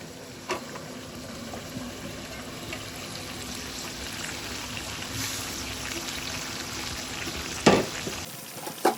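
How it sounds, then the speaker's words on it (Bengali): Chicken with cauliflower, new potatoes, tomato and peas is fried with spices in a pan, giving a steady close sizzle throughout, with a brief clatter of stirring near the end. "এবার সব কিছু একসাথে খুব ভালো করে কষিয়ে নিতে হবে।"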